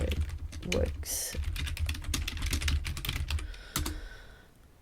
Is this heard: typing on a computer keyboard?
yes